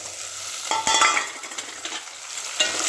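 Garlic sautéing in a pan with tomato, green chili and curry leaves for a spicy garlic kuzhambu, giving a close, soft sizzle with a couple of sharper spoon-stirring clatters.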